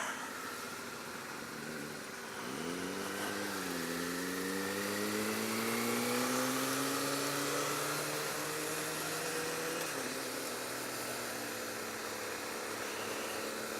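A 2018 Suzuki SV650 motorcycle revs up from a low rumble into a rising engine whine through the gears, holding a strong, steady drone before easing off, heard from the rider's position amid wind noise.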